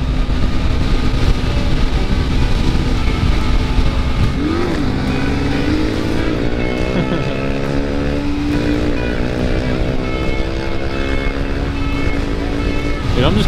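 A motorcycle cruises in sixth gear at about 80 up a winding mountain road, its engine droning steadily and loud with rising and falling pitch, wind rush throughout.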